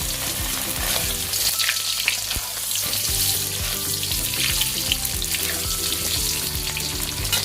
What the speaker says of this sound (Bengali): এরপরে এই তেলের মধ্যেই দিয়ে দেবো আমার আস্ত আলুগুলো।